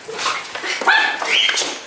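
A dog whimpers and yips up close in short high-pitched whines and brief barks, fairly loud with faint room noise around.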